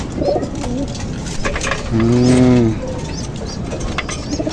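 A banded pigeon gives one clear, close coo lasting under a second against a low background hum.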